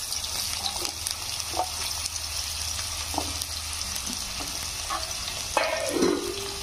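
Small-cut potato pieces frying in plenty of oil in a pan, a steady close sizzle with a few soft stirring clinks and scrapes, and no talking.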